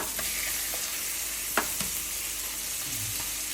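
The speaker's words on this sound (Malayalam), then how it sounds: "ചിക്കൻ ഫ്രൈ ചെയ്ത് നമുക്ക് നല്ലോണം ഒന്ന് മുറിച്ചെടുക്കണേ" Chicken fries in a pan with a soft, continuous sizzle and occasional light pops, fairly quiet and without voices.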